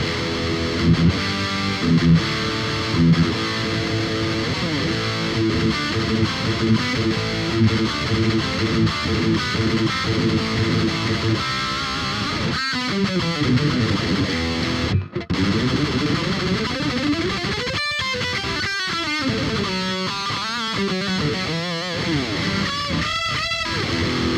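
Heavily distorted electric guitar through a BOSS GT-1000 and Marshall Silver Jubilee plays a sustained chugging metal riff, loud and dense, shifting into bending lead notes near the end.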